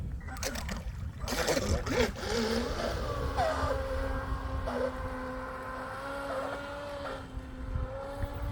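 A Pro Boat Sonicwake V2 RC speed boat runs on the water. Its electric motor gives a steady, high, whining tone that shifts slightly in pitch, after some brief handling bumps and splashes at the start.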